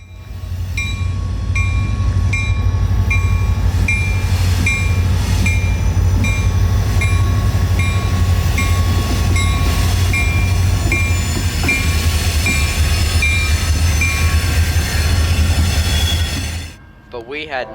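A CSX freight train rolls past close by with a heavy rumble, rhythmic wheel clatter and high metallic squeals, continuous until it fades abruptly at the end.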